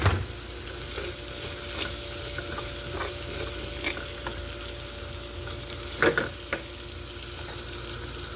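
Garlic frying in oil gives a steady, close sizzle, with a few soft stirring clinks from a utensil against the pan.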